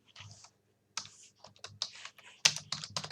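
Close, crisp computer keyboard typing enters hospital patient data into Excel, irregular clusters of clicky keystrokes with a short pause near the start and a sharp louder keypress partway through.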